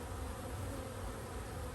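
Honeybees buzzing at a colony's hive entrance during a robbing outbreak, a dense, continuous swarm drone, loud and close, with no pauses.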